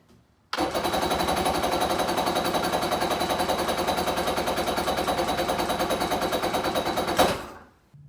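A Kawasaki SC 750 engine idles just after being started, a loud rapid even putter that carries on steadily for about seven seconds and then cuts out abruptly.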